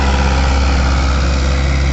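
Mahindra 575 tractor engine pulling a tiller through a harvested potato field, a loud steady low rumble held constant and close throughout, with no talk.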